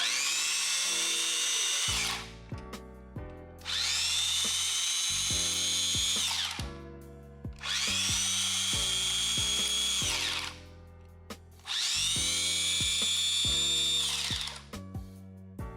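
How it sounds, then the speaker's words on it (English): A repaired tufting gun's electric motor spins up in four separate bursts of high, steady whirring, each a couple of seconds long, with quiet clicks and a faint musical bed between runs. "Let's go ahead and test it with the motor and see if it spins."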